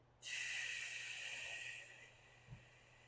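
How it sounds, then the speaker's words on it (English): A single long breath rushes in through the nose, close and airy, holding steady for under two seconds before fading, followed by a soft brief puff. "Take a breath in through your nose. Exhale fully."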